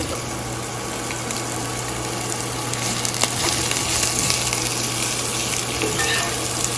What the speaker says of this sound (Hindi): तो यहाँ पे मैंने एक मीडियम साइज़ की प्याज ली है, उसको रख लिया, आपने स्लाइस कर लिया और इसको सौटे करेंगे